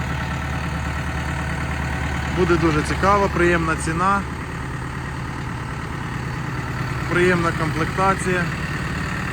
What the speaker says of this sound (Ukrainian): І сьогодні маємо трактор 92 сили.